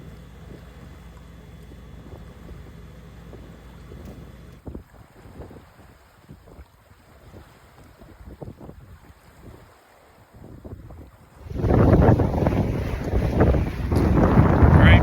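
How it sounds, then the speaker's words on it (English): A sailboat hull cuts through the water while close reaching from the Detroit River toward Leamington, Ontario, giving a steady wash and rush under wind buffeting that swells sharply louder near the end as spray and wind pick up. "these over the side shots of the hull just cutting through the water"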